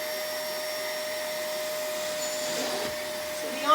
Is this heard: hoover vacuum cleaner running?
yes